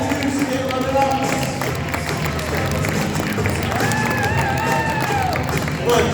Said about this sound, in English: how about a big round of applause for 2022 State Runner-Ups